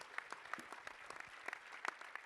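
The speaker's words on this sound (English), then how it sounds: "Guys, give a round of applause." Audience at a business expert panel giving a round of applause, a faint, steady spatter of clapping from a distance.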